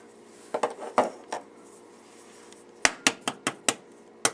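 An egg tapped against a hard edge and cracked open, a few light taps first, then after a pause a quick run of about seven sharp close clicks, quiet otherwise.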